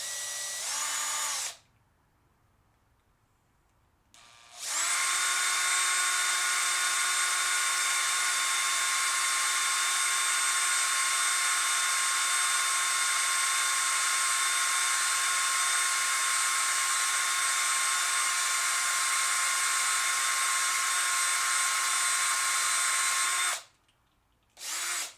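A power drill runs steadily at a high whine while boring into Hot Wheels toy cars, one short burst at the start and then a long continuous run, loud and close, stopping briefly before resuming.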